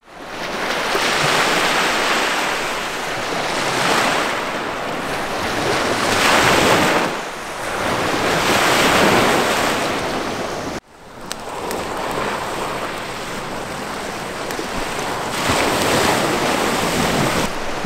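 Waves wash onto the Lake Superior shore at the mouth of the Brule River at sunset, a continuous close roar of surf with wind buffeting the microphone and no talking.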